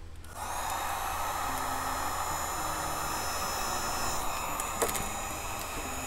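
A heat gun blows a steady, close whooshing hiss while warming Monokote covering on an RC plane wing. It runs evenly for several seconds with a faint hum underneath and one brief click near the end.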